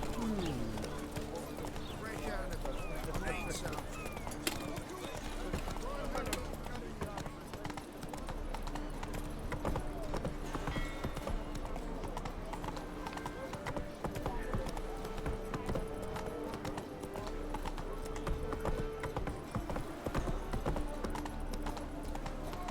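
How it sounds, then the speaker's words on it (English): The horse Roach in The Witcher 3 trots along with a steady rhythmic clip-clop of hooves, moderately quiet beneath game music and ambience, while a voice talks over it throughout. "Whoa there, Roach."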